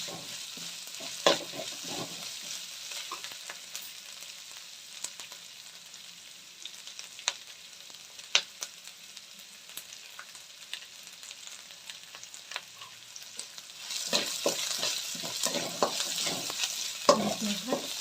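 Onions frying in oil with a soft, steady sizzle, broken by scraping stirs that get busier and louder toward the end, fairly quiet and with no talking.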